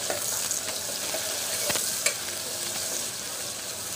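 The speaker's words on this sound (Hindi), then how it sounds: "और सारी प्याज डाल देंगे, और प्याज को अच्छी तरह से गोल्डन कर लेंगे।" Onions frying in hot oil with bay leaves in a pan for dal, a steady close sizzle with a few soft stirring scrapes, no talking.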